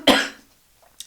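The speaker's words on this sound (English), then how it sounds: "normally I would pause if I got a little tickle cough" A single sharp tickle cough, loud and close, fading quickly, followed by a faint short breath.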